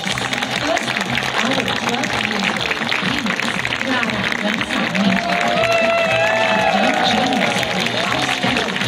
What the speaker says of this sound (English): give a big round of applause for our performers